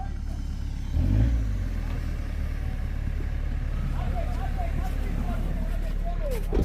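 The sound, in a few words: off-road car engine revving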